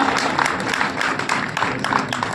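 Audience at a community program in a Delhi garden venue applauding the DCP, steady dense clapping throughout, fairly close and loud.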